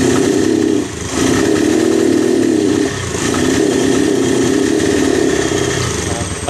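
A Suzuki GD110 motorcycle engine runs with a persistent misfire, a loud close buzzing drone that stumbles and dips around the one- and three-second marks before steadying again.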